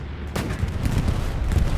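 Bombing run explosions in the World War II shooter Hell Let Loose, heard as a dense, continuous rumble of booms and blasts that swells after a brief quieter start and keeps rolling, loud and close.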